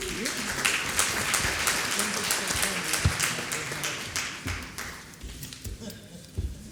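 Audience applause at a Pittsburgh university lecture forum, welcoming a speaker to the stage; dense, steady clapping fills the room, thinning out toward the end with a few louder scattered claps.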